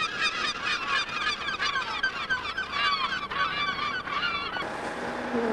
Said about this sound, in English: The gulls are coming in great numbers.